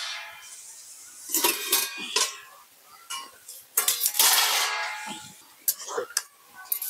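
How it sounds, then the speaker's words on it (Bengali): A metal lid is lifted off a pot of boiling potatoes with a few sharp clinks and clatters, close and fairly loud between quieter stretches, with a voice heard briefly. "এবার আমি ঢাকনাটি খুলে নেব।"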